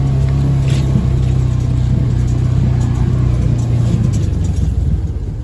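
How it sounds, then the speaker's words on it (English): A Ranger utility vehicle drives slowly along a paddock fence while posts are pulled. Its engine gives a loud, steady droning hum close by, with a low rumble throughout. "if I wasn't sitting in the Ranger right now, driving alongside the fence, picking up these posts"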